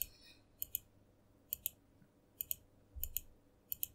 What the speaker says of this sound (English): I'm just clicking through it.